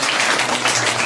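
Loud, dense applause from an audience at a school farewell ceremony, a steady wash of many hands clapping at once throughout a brief moment.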